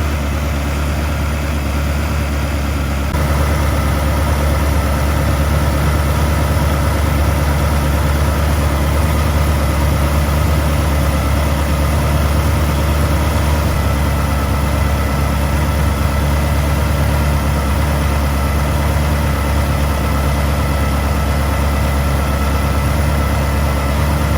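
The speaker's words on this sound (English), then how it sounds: "I'm just going to let this warm up a bit" A Ferrari 360 engine warming up at idle after a repair: a loud, steady, close drone with a low hum and constant mechanical whir for the whole stretch, no voices.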